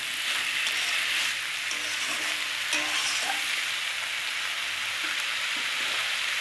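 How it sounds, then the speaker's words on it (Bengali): Moong dal with ridge gourd sautéing in a pan over low gas, a continuous dense sizzle with faint scraping of stirring, close and even for the whole stretch. "গ্যাসটা সিমে দিয়ে এবার কষতে হবে, ঢাকা দিয়ে।"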